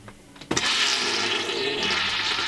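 An RV toilet flushes as its ball valve is pressed open, a short quiet lead-in followed by a sudden loud rush of water that continues steadily to the end, close and alone.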